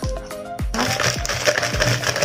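Oreo cookies being crushed by hand, several sharp crunching snaps at an irregular pace followed by a steady crinkly crackling, close and fairly loud with no voices.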